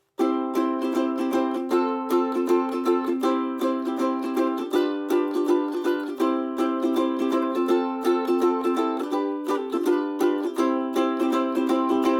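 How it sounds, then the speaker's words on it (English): Ukulele strummed in a lilting, swung pattern for 'Aiken Drum', steady repeated chords with the upbeat skipped, close and clear, no voices. "I would play the first down strum and then skip the upbeat and then do the rest of them"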